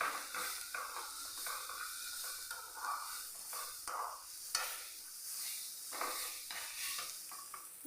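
Meat masala and a pinch of turmeric being stirred into a sizzling filling in a pan for samosas; repeated soft scraping strokes over a continuous low sizzle, fairly faint, with no talking.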